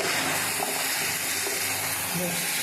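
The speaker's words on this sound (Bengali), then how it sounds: "এই তেলেই ঘটকচু আলুটাকে একটু ভাজতে দেবো। দিয়ে দিলাম ঘটকচু আলুটা।" Ghotkochu taro and potato frying in hot oil with ginger-garlic paste in a Bengali kitchen, a steady close sizzle and hiss running throughout without pause.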